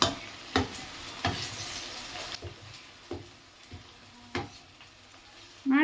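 Egg fries in a pan for egg Maggi, a faint, low sizzle broken by several sharp spatula scrapes and taps.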